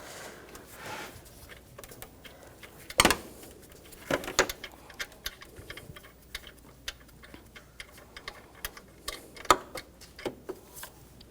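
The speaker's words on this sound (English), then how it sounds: "I'll switch to a ratchet wrench once they're loose" A ratchet wrench clicks in rapid, irregular runs while loosening bolts on the accessory drive belt tensioner of a 2004-2009 Audi A4 Quattro 2.0L four-cylinder, close and fairly quiet, with a few sharper metallic knocks.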